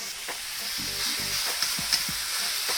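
Lean meat for homemade dog food sizzles steadily in a pan, a continuous frying hiss with occasional soft stirring scrapes, close and alone without talk.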